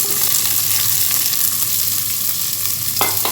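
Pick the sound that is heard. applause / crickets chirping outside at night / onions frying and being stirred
onions frying and being stirred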